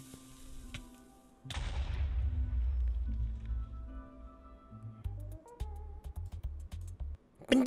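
A zombie exploding like a creeper in Minecraft: one sudden loud blast that rumbles and fades over a few seconds, followed by quieter game sounds and thumps.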